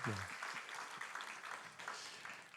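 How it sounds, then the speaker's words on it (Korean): A church congregation claps in a brief burst during a worship service, a voice briefly audible at the start over the moderately faint, fading applause. "한 번 더 박수하겠습니다"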